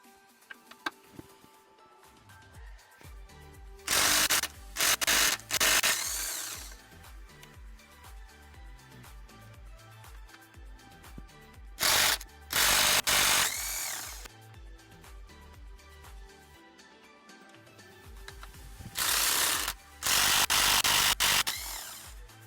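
A power tool whirs in three short bursts, each a second or two long, as 13mm nuts are removed from the top of a front strut on a 2010 Ford Mustang, with quieter workshop handling noise between bursts.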